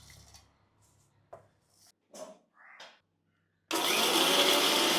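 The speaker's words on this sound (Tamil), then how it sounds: "நம்ம இந்த வறுத்து வச்ச எல்லாத்தையும் மிக்சியில் போட்டு அரைச்சி மாவாக்கி எடுத்துக்கொள்ளுவோம்" Kitchen mixer grinder whirring loudly as it grinds roasted spices for Batticaloa-style crab curry, starting abruptly after a few quiet clinks and kitchen handling noises and then roaring steadily and close.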